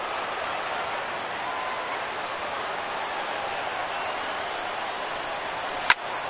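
A capacity stadium crowd at a Baltimore baseball game in MLB The Show 17 keeps up a steady, dense roar of cheering and chatter throughout, with one sharp crack near the end.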